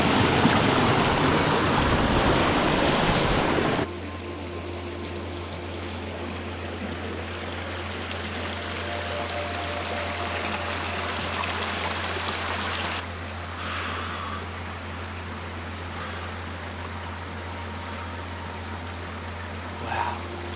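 Freshwater stream running steadily near the ocean on a Tasmanian hike, a continuous close babble and wash of water, louder at the start, with a brief faint voice near the end.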